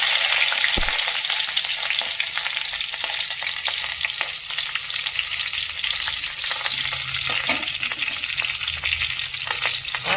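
Mustard seeds, cumin and green chili sizzling in hot oil, a loud, dense crackle with scattered pops and some stirring, steady throughout with no voices.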